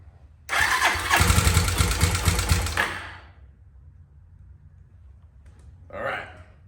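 An abandoned motorcycle engine cranks and catches, a loud broadband burst of roughly two and a half seconds that then cuts out, followed by a brief second sputter near the end.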